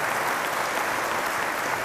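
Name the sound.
congregation applauding anniversary couple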